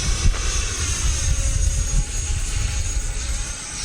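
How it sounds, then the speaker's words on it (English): E-flite F-16 70mm electric ducted fan RC jet flying overhead, a loud continuous turbine-like whine and rushing roar that swells and fades slightly as it passes, with no talking. "It sounds like an 80 millimeter jet, even though it's a 70"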